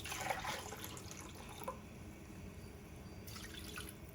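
Water is poured into a pan of chicken gizzards, making a soft, continuous trickle with a few brighter splashy drips near the start, heard close and quietly with no talking.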